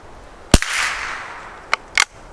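A Schultz & Larsen Otterup .22LR rifle fired downrange: one sharp, close report, then a lighter crack and a quick pair of shots about a second later, with a faint echo after the first and no talking.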